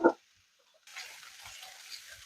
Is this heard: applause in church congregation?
no